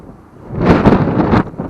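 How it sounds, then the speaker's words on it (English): Outdoor wind buffeting a microphone at a pull-a-part salvage yard, a loud low rumbling gust that swells after a quiet start and roars for about a second before easing, with no voice. "excuse the wind."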